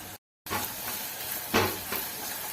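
Chopped large onions and garlic sauté in hot oil for a homemade pizza sauce, giving a steady soft sizzle with a few brief louder crackles and stirring scrapes throughout.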